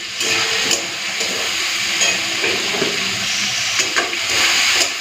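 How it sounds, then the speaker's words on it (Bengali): Chopped onion, garlic and potatoes fry in a pan, giving a loud, continuous sizzle and hiss with occasional stirring clatters and scrapes close by, and no talking. "কেটে রাখা আলু সমস্ত কিছু দিয়ে দিই ভালো করে ভেজে নেব"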